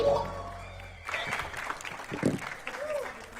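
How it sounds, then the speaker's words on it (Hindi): An audience claps for the band members of a comedy show after a short opening with a voice, the applause rising suddenly and continuing steadily at moderate loudness. "जोरदार तालियां हमारे साथियों के लिए।"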